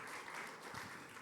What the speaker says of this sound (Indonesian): Mari beri tepuk tangan yang terbaik bagi Tuhan kita.